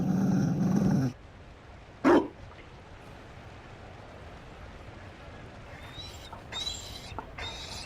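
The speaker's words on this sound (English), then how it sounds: "You found a dog?" A Mabari war dog in Dragon Age: Inquisition gives a short, loud bark or growl burst over low background ambience, followed by quieter game sounds.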